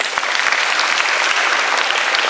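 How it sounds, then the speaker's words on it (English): A crowd at a boarding school Father's Day event claps steadily, a dense wash of applause from many hands with no break, fairly loud and close. "Please give them a big round of applause."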